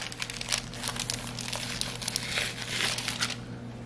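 Paper towel crinkling and rustling while membrane is stripped from ribs for smoking on a Weber Performer Deluxe, close and continuous with crisp bursts over a low steady hum.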